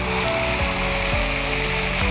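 Water pours steadily from a fountain and waterfall in a Vientiane fountain park, a dense, continuous rushing wash with no pauses, close and fairly loud.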